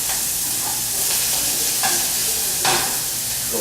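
Butter sizzles loudly in a hot pan as biscuits and sausage gravy are made, a dense continuous hiss with a few brief stirring scrapes over the top.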